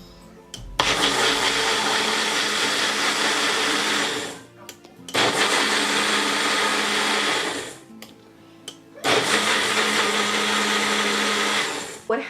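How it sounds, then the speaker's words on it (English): A blender whirs through chia seeds and other ingredients in three loud, steady bursts with short pauses between them, close and with no talking. "And then you blend it in like a regular blender if you don't have one of these, or whatever you have."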